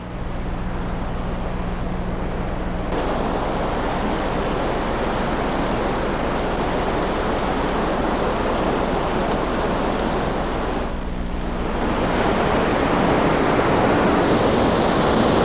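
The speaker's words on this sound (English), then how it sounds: "all the water in the creek above us pours down into this huge hole below us" Creek water pours steadily down into a huge cave hole in Alabama, a loud continuous rushing roar like a waterfall that holds for the full length without talk.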